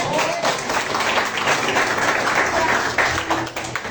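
A church congregation claps together during a Portuguese-language worship service, a dense, steady wash of many hands lasting throughout, with faint voices mixed in beneath.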